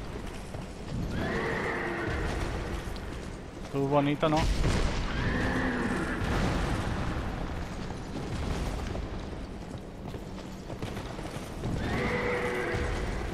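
Horse whinnies and hoof clip-clops in the Dark Souls 2 video game, with a loud neigh near the start, another midway and a third at the end, under someone talking over the game audio.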